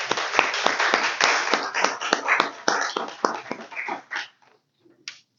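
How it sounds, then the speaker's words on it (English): Audience applause for a guest at a professional panel event, a burst of hand claps that rings out steadily for about four seconds before tapering into a few scattered claps and fading to silence. "So a hand of applause for our guest."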